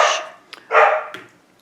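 Two sharp, close puppy barks with a brief pause and a faint yip between them, loud and clear against otherwise quiet surroundings.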